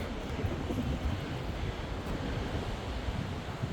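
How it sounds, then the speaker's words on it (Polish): Cold wind gusting across a Baltic beach on the way toward Rozewie, with steady surf underneath and heavy low microphone buffeting, loud and continuous throughout. "jest taki zimny wiatr. Najgorszy jest wiatr."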